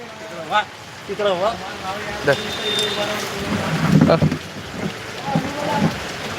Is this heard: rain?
yes